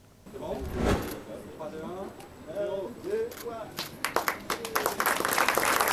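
A reporter's voice leads in. Then the crowd at the opening of the new Pôle emploi job agency in Petit-Bourg breaks into rising applause, with sharp individual claps growing denser toward the end.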